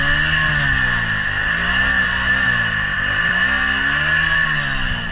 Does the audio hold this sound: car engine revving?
yes